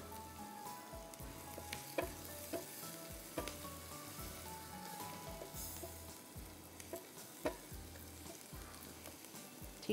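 Meatballs frying in a pan give a soft, steady sizzle broken by faint scattered pops and clicks, fairly quiet and with no voices.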